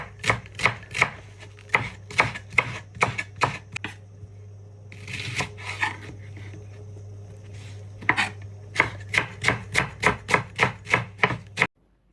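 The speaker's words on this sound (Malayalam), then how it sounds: "ഇനി അപ്പോൾ ആ വേവുന്ന നേരത്തിന് നമുക്ക് സവാളയൊക്കെ ഒന്ന് അരിഞ്ഞെടുക്കാം." Medium onions are sliced with a knife on a cutting board, crisp rapid knocks in quick runs that pause once midway and then resume, all close and clear over a low steady hum.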